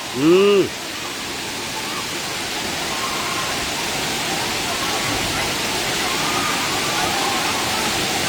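Water pours steadily down a waterfall in a constant broadband roar that fills the scene, with a brief voice heard at the very start.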